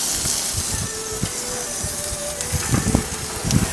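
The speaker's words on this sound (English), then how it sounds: "As you can see, very hot grill. It's sizzling away already." Food sizzling on a very hot grill for Taiwanese beef noodle soup, a close continuous hiss and crackle with scattered pops, no talking.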